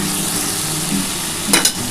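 Potatoes fry with onion and tomato in a pan for street-style ghugni, giving a steady close sizzle, with a couple of sharp utensil scrapes and clinks from stirring near the end.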